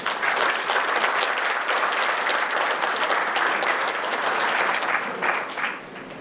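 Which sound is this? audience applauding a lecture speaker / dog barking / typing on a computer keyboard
audience applauding a lecture speaker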